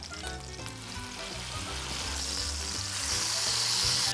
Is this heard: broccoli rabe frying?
yes